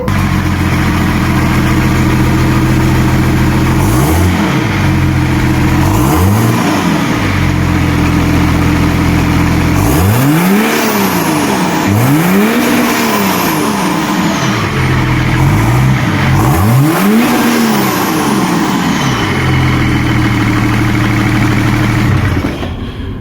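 Nissan Patrol with an M57 engine revving, rising and falling in several swells over a steady loud idle and repeating through the stretch, close by with no talk.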